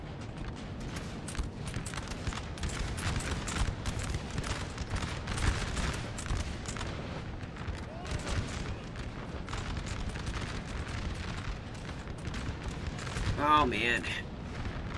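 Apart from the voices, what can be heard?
artillery fire in Napoleon Total War video game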